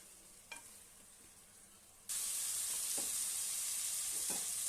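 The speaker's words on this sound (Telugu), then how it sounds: "ఈ రైస్ని కొంచెం నెమ్మదిగా కలుపుకోవాలి" Chicken biryani rice being gently stirred in a hot pot: a soft spoon scrape or two, then a loud, steady sizzle rises abruptly and continues, with occasional light scraping strokes.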